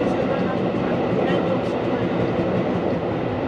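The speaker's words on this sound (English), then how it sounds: "I'm on the train. For the Ginza line and the Toei Oedo line." A Tokyo Ginza line subway train runs with a steady, dense rumble and rattle of wheels and carriage noise, loud and continuous throughout.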